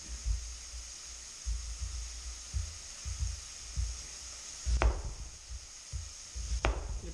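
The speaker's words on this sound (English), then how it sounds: "I'm going to cut the onion up." Knife chopping an onion on a board in a home kitchen, with bacon cooking in a pan nearby: soft, irregular low thuds of separate cuts, fairly quiet against a steady background hum, no talking.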